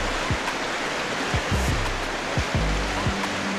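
River water rushing steadily over rocks on a peaceful ride stop, a broad continuous wash with a few low thumps and knocks underneath.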